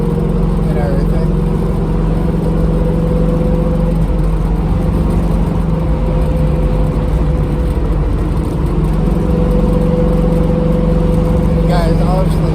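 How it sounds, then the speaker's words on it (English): A car's engine drones at a steady 2600 RPM while cruising at 55 mph, with a persistent low exhaust vibration humming underneath and someone talking over it. "You guys obviously hear that exhaust vibration I've been chasing."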